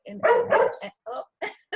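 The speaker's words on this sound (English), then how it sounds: "the puppy is confirming what has been said." A puppy barks and yips in a string of short, close, loud bursts with brief gaps between them.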